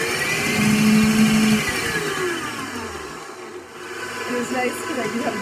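A stand mixer with a dough hook kneads bread dough, its motor giving a steady whirring drone that shifts pitch as the load changes, with a voice talking over it.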